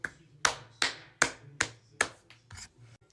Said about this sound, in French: En fait, faut juste s'asseoir et applaudir.